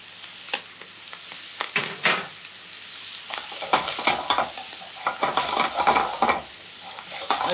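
Napa cabbage stir-frying over high heat for a bread soup, with loud close sizzling and frequent rhythmic tossing and scraping bursts in the pan, building in intensity toward the end.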